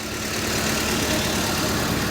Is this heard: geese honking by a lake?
no